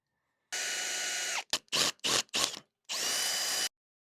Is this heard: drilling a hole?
yes